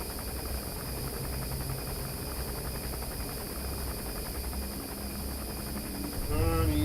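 Enemy gunship helicopter in Metal Gear Solid V, a steady whirring rotor drone under constant hissing noise, holding evenly at moderate loudness before swelling briefly near the end.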